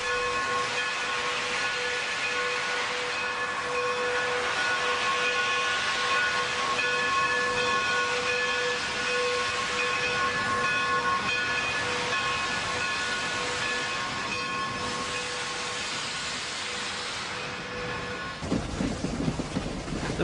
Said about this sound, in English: the engineer opened the cylinder cocks and left for the main passenger terminal